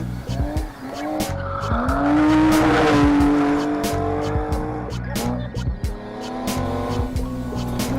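Car drifting at Evergreen with a long loud tire squeal and engine revving, plus repeated sharp clicks and clatter throughout, heard close up.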